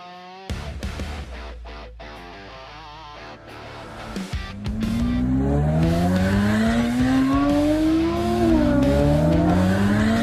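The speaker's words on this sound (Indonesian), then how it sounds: "Kalau kamu injak gas lagi, mesinnya bisa meledak." An Aston Martin engine revs hard with rising and falling whines, then tires squeal loudly over the roaring motor, close and intense.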